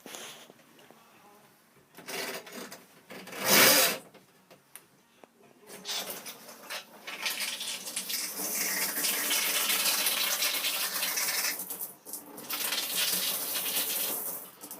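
A caravan shower in a VIP 460 sprays water in a steady broad hiss that starts and stops, interrupted by handling clatter and a brief burst of louder noise.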